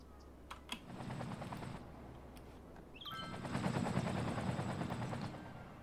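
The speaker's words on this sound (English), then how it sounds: "Where are those helicopters going?" Fire helicopters flying over a city in Cities Skylines, a rapid rotor chop throbbing in two sustained bursts, fading in the middle and returning louder, with no one talking.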